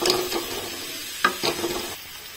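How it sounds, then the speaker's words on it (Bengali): Vegetables fry in a pan for Schezwan momos, a soft continuous sizzle broken by several scraping strokes of a spoon stirring them, close and with no talking. "তো এইগুলোকে এবার ভালোভাবে একটু ভাজা ভাজা করে নেব।"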